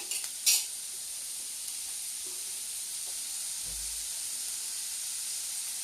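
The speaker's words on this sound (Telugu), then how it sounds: "బ్రౌన్ అండ్ గోల్డిష్ కొంచెం లైట్గా వేగాలండి" A Telugu tamarind-leaf egg fry frying in a pan gives off a steady, soft sizzle and hiss, with one brief clink near the start and no talking.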